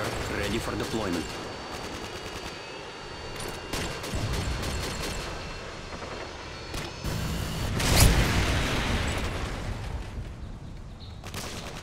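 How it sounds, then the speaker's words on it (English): Helicopter gunfire in the Modern Warfare 2 video game, with bursts of rapid shots and booms over a busy battle mix and a louder blast near the end. "Helicopter inbound."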